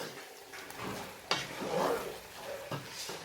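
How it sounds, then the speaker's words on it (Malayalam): Bombay chicken biryani masala stirred in a pot, a few soft scraping and clinking strokes of a spoon against the metal with a faint sizzle underneath, close by. "ഇത് അടപ്പൊന്ന് മാറ്റിയിട്ട് വീണ്ടും നമുക്കിതൊന്ന് ഇളക്കി കൊടുക്കണം"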